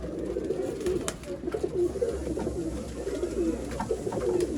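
Pigeons at a pigeon sale in Bangalore, soft repeated cooing, close and fairly quiet, with a few scattered bird calls and light background noise.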